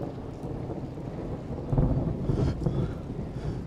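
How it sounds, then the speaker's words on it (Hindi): Thunder from storm clouds rumbles as a deep, continuous roar through the whole stretch, swelling louder midway, with steady rain and wind noise and no talking. "बादल देखो किस तरीके से गरज रहे"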